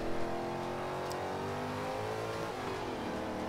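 A car engine in Forza Motorsport 5 accelerating hard, its pitch climbing steadily through a sustained rev with no gear break, loud and close, heard alone without talk.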